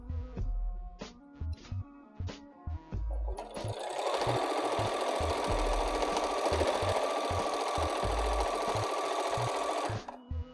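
A sewing machine stitches a short seam to close the gap in a quilt's bias binding. It opens with a few separate clunks of the mechanism, then runs in a steady, rapid rhythmic chatter for several seconds before stopping abruptly.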